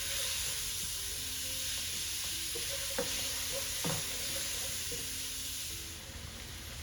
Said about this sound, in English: stir fry a little more